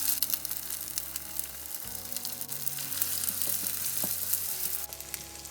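Broken eggs fry and get stirred into tomato masala in a pan, a soft continuous sizzle with scraping stir strokes and light clatter, close and fairly quiet, no voices.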